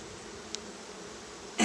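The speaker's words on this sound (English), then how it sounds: "It wasn't overflowing with bees, but there are certainly bees on every frame." Honey bees crowd the hive frames during a beehive inspection, their soft, steady buzzing hum continuing evenly, with a single brief tick midway and a louder rustle at the very end.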